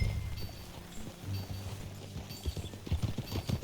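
Steady clip-clop of horse hooves at a walking pace in the video game Red Dead Redemption 2, fairly close, over a low rumbling background hum.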